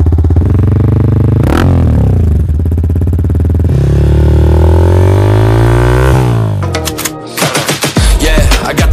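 A Yamaha MT-15 motorcycle with an aftermarket Akrapovic full-system exhaust idles loud and deep, revving up and down close by, ending in sharp rapid crackles and pops as the throttle snaps.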